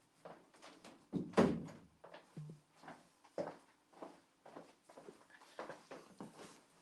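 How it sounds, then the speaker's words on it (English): A door shuts with a dull thunk and a heavy slam, followed by scattered thumps and footsteps in a quiet room. "I'm going to shut the door"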